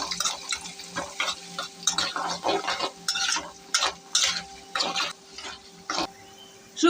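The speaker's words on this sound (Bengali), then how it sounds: "এখন আমি রসুন আর পেঁয়াজ এগুলো দিয়ে ভাজবো।" Garlic and onion fry in oil with dried chillies, stirred in rhythmic bursts of a utensil scraping the pan over a low, steady sizzle.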